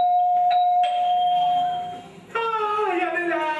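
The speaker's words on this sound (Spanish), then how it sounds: "Timbre." A doorbell chimes in a children's cartoon, a sustained bell tone followed by a second brighter chime, with a voice starting up right after.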